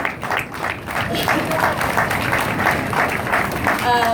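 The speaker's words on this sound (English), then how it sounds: "Yes, you may applaud for him." An audience at a suicide prevention walk event applauds for Representative John Mizuno, with steady clapping from a crowd mixed with voices talking over it.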